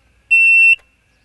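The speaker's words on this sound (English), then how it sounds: "You can test the water level alarm." A pump panel's water level alarm sounds during a test, giving one steady high-pitched electronic beep of about half a second in an otherwise quiet setting.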